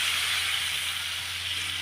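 Mustard paste hits hot oil in a pan, giving a steady, loud hiss of sizzling that holds evenly for a couple of seconds with no voices.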